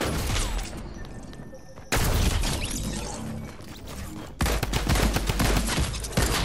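Dense, rapid automatic gunfire in Fortnite, a scoped assault rifle among other weapons, in sustained loud bursts with brief shifts in intensity, continuous through the moment.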